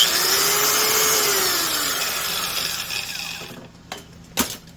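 A Milwaukee 4-1/2 inch small angle grinder runs with a steady, fairly loud whine that gradually winds down and fades, followed by a couple of brief clicks near the end.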